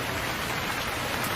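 Cartoon-style rain falls as a steady, dense hiss of drops, even and unbroken throughout with no voices.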